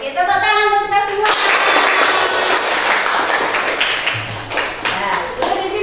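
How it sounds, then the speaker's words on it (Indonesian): A primary school class applauds together in a classroom, a dense burst of clapping that swells after a short lead-in and runs steadily to the end, with voices mixed in at the start. "Oke, tepuk tangan untuk kita semua."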